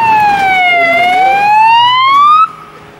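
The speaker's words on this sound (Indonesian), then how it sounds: "mobil ambulans lagi" An ambulance siren wails in a single rising and falling sweep, loud and close, then cuts off abruptly near the end, leaving a quiet background.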